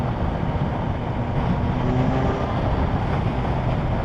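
A 2020 Kawasaki ZH2 motorcycle engine runs steadily at low revs around 3000 RPM, a continuous close broadband drone with a faint underlying hum and no talk.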